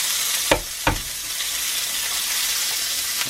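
Steak searing in a cast iron pan, a steady bright sizzle throughout with two sharp clanks or taps early on, close and alone without speech.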